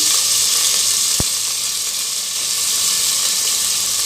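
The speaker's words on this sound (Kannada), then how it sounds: "ಒಂದು ನಾಲ್ಕು ಸ್ಪೂನ್ ಎಣ್ಣೆ ಹಾಕಿದ್ದೀನಿ ಈಗ ಸಾಸಿವೆ ಹಾಕ್ತೀನಿ ಈಗ ಈರುಳ್ಳಿ ಕರ್ಬೇವು" Mustard seeds, onion and curry leaves frying in about four spoons of oil for a tomato dal, a dense continuous sizzle close up with one sharp crackle partway through.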